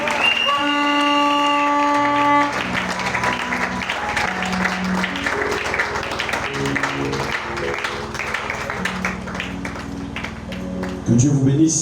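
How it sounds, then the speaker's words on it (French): A church congregation applauds and cheers loudly, a sustained wash of clapping and crowd noise under sung or sustained musical tones, with a voice rising near the end. "Acclamez très fort."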